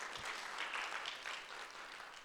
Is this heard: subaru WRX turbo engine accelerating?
no